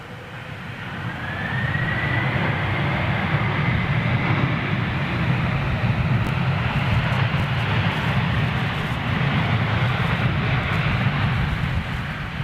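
A smoky Boeing 767 roars with a loud, steady jet engine rumble, building over the first seconds and holding broad and sustained at a distance from home.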